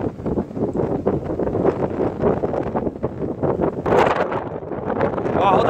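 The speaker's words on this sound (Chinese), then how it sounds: "哇，好大风喎！" Strong gusting wind buffets the microphone beside a lake while fishing, a steady loud rumble that swells near the end, with people talking over it.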